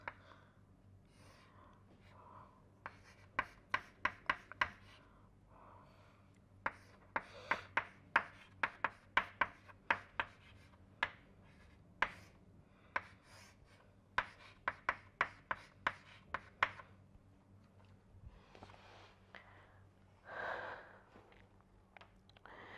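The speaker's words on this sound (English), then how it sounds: "So, let me write that out." A pen writes out an equation by hand, close and quiet, in bursts of quick scratchy strokes and taps with short pauses between, ending in a soft rustle.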